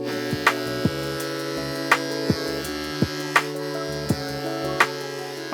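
Electric clippers buzz steadily and close up while trimming a dog's fur, with a constant motor hum broken by small clicks and pitch shifts as the blade moves.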